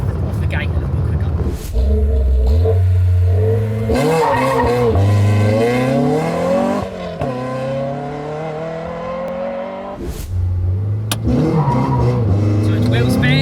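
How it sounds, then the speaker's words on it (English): A track-focused Renault Clio RB launches hard from the line with wheel spin, the engine revving loud and climbing through several quick gear shifts, each upshift dropping the pitch before it rises again, with a voice talking over the car. "I'll be a bit more aggressive on the launch and see if we can get it off the gate a little bit quicker."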